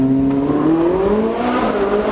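A 2017 Ferrari 488 GTB's twin-turbo V8 hums with a steady rising engine note, heard close and fairly loud for a couple of seconds with no voices.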